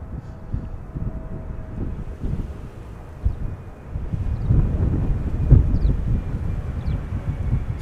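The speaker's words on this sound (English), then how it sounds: "Feels like the wind is picking up a little bit again." Wind gusts at Amsterdam Schiphol Airport during breezy arrivals, producing a steady rumbling buffeting on the microphone that swells stronger in the second half, with a faint distant drone underneath.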